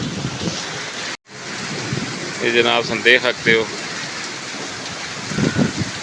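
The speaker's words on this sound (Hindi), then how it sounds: "इंतहाई तूफानी बारिश है।" Steady heavy storm rain hisses loudly in the background in a village in Pakistan while someone speaks briefly over it, with a sudden short dropout early on.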